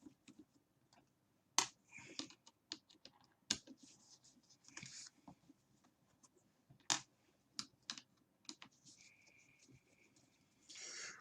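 Four screws are backed out of a fan handle: quiet, scattered small clicks, ticks and short squeaks of a screwdriver, with gaps between them and no talking.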